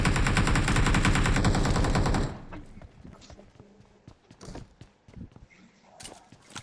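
Sniper and automatic gunfire in BGMI / PUBG Mobile, first as a loud, dense rattle of rapid shots for about two seconds, then sparse scattered shots and footstep-like clicks.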